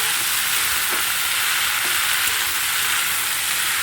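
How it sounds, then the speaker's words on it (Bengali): Kolmi greens fry in a pan with onions and chillies, making a loud, continuous sizzle close by, with a few soft scrapes of stirring. "পেঁয়াজ আর লঙ্কাগুলো ভাজা ভাজা হয়ে গেছে এবারে শাকগুলো দিয়ে দেবো"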